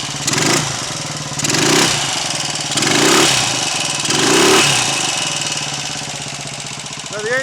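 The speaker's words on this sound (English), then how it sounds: "Now the engine sounds quite sort of tight, which doesn't surprise me because it's quite freshly rebuilt" A freshly rebuilt Royal Enfield 250 single-cylinder motorcycle runs just after a kick start, with a close, loud thumping beat and several rhythmic throttle swells before it settles into an even idle.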